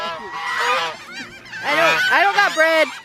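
Geese honk loudly and repeatedly up close while being fed bread, a crowd of overlapping harsh calls in quick bursts, with people talking in the background.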